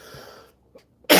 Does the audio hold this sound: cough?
yes